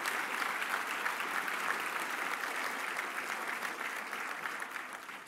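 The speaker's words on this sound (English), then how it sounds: "Could we have a applause?" An audience at a political fundraising gala claps steadily, a dense sustained wave of applause in a large room that eases slightly toward the end.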